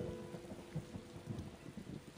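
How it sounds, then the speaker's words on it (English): Storm ambience in the video game Tales of Xillia 2: a low, quiet rumble of thunder with a steady rain-like wash, no voices. "Man, this thunder's pretty intense, huh?"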